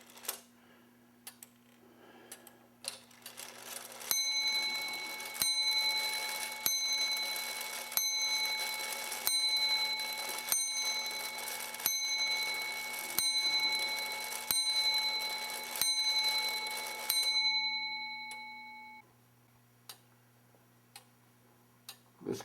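A clock movement ticks in a steady rhythm, then a small bell-like chime strikes repeatedly at regular intervals for several seconds before stopping, leaving the ticking alone.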